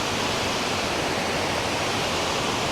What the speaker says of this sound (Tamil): இந்த பாருங்க இதில் இதுக்கால தான் தண்ணி ஓடி அப்படி அங்கே போகுது.